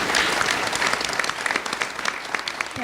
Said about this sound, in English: we're going to give them a round of applause